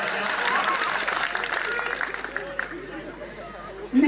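An audience at a Hindi poetry gathering claps in a broad wash of applause mixed with chatter, strongest at the start and thinning out, with voices talking over it.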